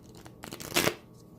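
A short burst of papery shuffling and riffling as tarot cards are shuffled, close and soft, rising to a brief louder flutter before fading.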